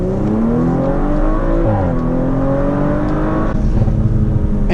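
An Audi RS5 Sportback in Nogaro Blue accelerating hard in its default drive map, engine note climbing steadily through the gears with a brief shift dip, loud and close from inside the cabin, with no talking.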